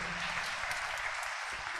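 A church congregation claps vigorously in a brief, dense burst of many hands, with a few sharper individual claps standing out.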